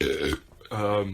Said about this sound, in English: sick burp